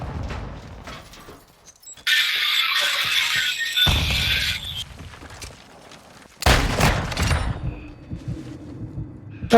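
Pistol fire in a Call of Duty multiplayer match, dual pistols in use, with bursts of sharp shots and loud game effects in two dense stretches over steady background game noise.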